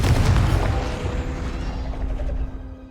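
The Confringo spell explodes in Hogwarts Legacy, with a loud booming burst that rolls off into a fading rumble and debris crackle over a couple of seconds.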